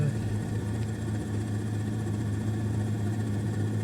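The engine and rotor drone of a Robinson R44 Raven II helicopter in Flight Simulator 2020, steady and continuous throughout, with a low hum and a faint speaking voice.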